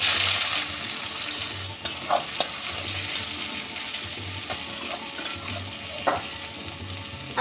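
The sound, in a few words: frying chopped onions in a pan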